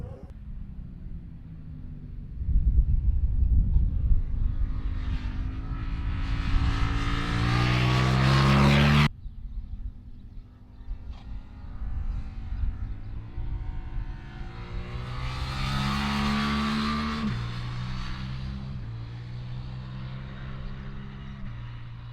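A Suzuki GSX-8R sports bike lapping the Monteblanco circuit, its engine loud and close as it revs hard through the gears, then cuts out sharply and builds again in rising, falling pulls with no talk.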